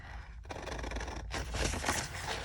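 Scissors cutting paper for a handmade card, close crisp snipping and scraping in two steady runs separated by a brief pause.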